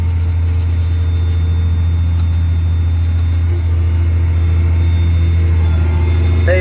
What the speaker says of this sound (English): There's Big Blue. My favorite Kenworth.